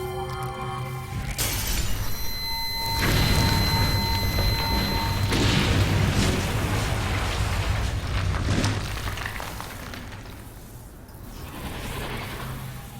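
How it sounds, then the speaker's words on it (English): An explosion in the video game Myst IV: Revelation bursts suddenly, then rumbles and crackles with shattering, debris-like noise that slowly dies away. "that was the same explosion you heard on the main island before"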